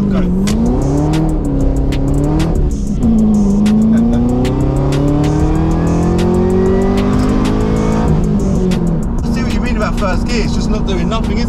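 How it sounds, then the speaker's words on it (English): A tuned Camaro ZL1 does a burnout and launches, its engine revving hard and climbing through gears with loud sustained roar, crackling pops and tyre noise, while people talk over it. "I was doing a fucking burnout there."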